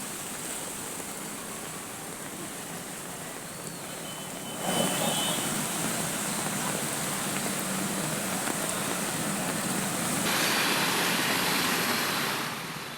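Heavy rainwater gushes down Sinhagad Road in Pune like a waterfall, making a loud, continuous broadband roar of rushing water that swells in two stages and runs without any talking.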